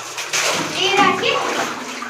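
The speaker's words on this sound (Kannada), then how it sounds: "ನೀರ್ ಹಾಕಿ" Water poured while washing out a tank, a steady splashing rush that stays fairly loud, with a voice mixed in.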